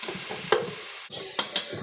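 Tomatoes with turmeric and chilli powder stirred and frying in a pan, a soft steady sizzle broken by several sharp scraping strokes of the spoon, close and alone with no talk.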